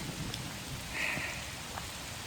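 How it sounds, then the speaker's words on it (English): Steady outdoor rain during a thunderstorm, a soft continuous hiss of drops on surfaces, faint and fairly distant, with no voices. "I'm getting rained on."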